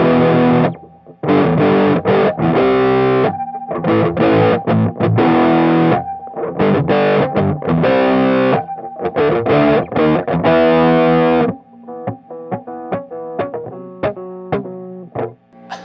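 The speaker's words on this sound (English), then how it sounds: "hear what that sounds like in the SD1 Overdrive" Distorted Aria Pro II XR electric guitar through an SD1 overdrive pedal, playing loud crunchy chords in bursts, then lighter single picked notes ringing out toward the end, alone with no voice.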